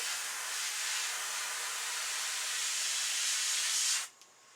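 A steady, loud spray paint hiss onto a deer or elk antler being repaired runs continuously for about four seconds, then cuts off abruptly into near silence.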